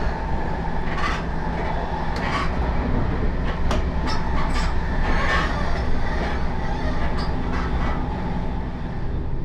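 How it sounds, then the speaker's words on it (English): A passenger train in Switzerland running along the rails, a continuous loud rumble with rhythmic clacking of wheels over track joints and a few brief higher squeals, heard from inside a carriage. "we're on a train"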